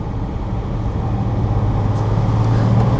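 A 1969 Mercedes 230 with a four-speed manual gearbox cruises along, its engine humming steadily with a low drone that builds slightly over a few seconds, heard from inside the car on a dry autumn day.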